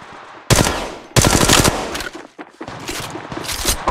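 Bursts of rapid automatic gunfire in the Apex Legends video game, loud and close, with two long sustained volleys followed by shorter choppy bursts and brief pauses between them.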